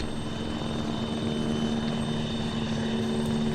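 A helicopter setting down near troops, its steady rotor and engine drone holding loud and continuous throughout, with a strong low hum and no break.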